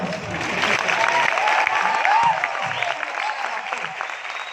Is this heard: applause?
yes